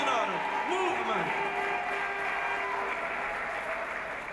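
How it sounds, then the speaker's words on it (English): An audience at a political gathering applauds, a thick burst of clapping that holds steady and slowly fades over a few seconds, with a voice speaking over it at the start. "Keep the applause going as I bring on our first presenter."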